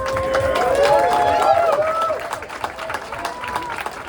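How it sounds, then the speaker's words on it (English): Crowd at a Fallout: New Vegas developer panel during a fan celebration applauds and cheers loudly, with whoops and shouts over the clapping, which eases into scattered claps. "give yourselves a round of applause"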